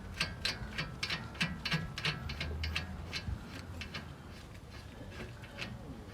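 Ratchet wrench tightening the front axle center nut on a Nissan e-NV200 during a hub bearing replacement, giving a steady run of close, crisp pawl clicks in quick repeated strokes over a low background hum.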